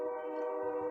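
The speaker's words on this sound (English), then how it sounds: "There's periodic train horns." A train horn sounds nearby as a steady, loud sustained blast with layered harmonic tones that holds evenly for about a second, with some low rumble underneath.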